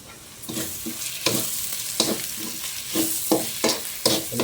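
Something sizzles loudly in a hot pan before beef goes in for a Bengali beef bhuna, with rhythmic bursts of frying as a spatula stirs and scrapes roughly every half second, close and without speech.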